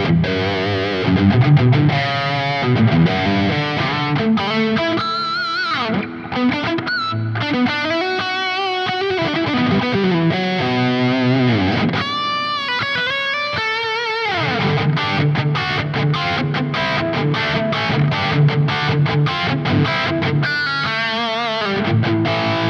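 Electric guitar played through a Rat-style distortion pedal, gritty and saturated, with chugging riffs and sustained chords running continuously and loud throughout.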